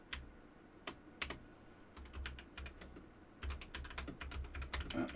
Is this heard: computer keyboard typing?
yes